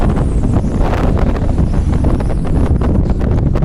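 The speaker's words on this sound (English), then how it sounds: "It's breezy." Strong outdoor wind buffets the microphone in a steady, loud roaring rush of breezy gusts that goes on without a break, with no voices.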